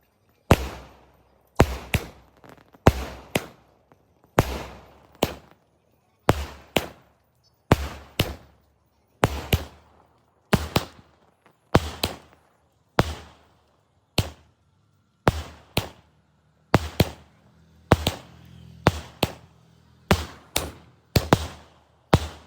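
A long series of sharp, loud firecracker bangs on a beach bursting one after another at irregular intervals, each with a short crackling tail, with no voices.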